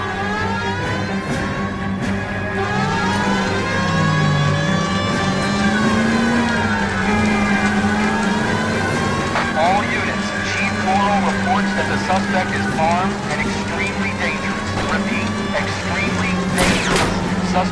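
A Chevrolet Fleetline is chased through city streets in the video game LA Noire. A steady engine roar with shifting tones and bursts of impact runs throughout, beneath a voice on the police radio.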